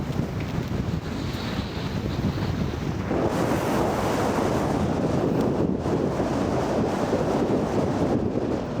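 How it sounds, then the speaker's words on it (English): Heavy wind roars and buffets the microphone throughout while cycling into a cold headwind in Calpe, growing louder and rougher partway through, with no voices. "It is windy today."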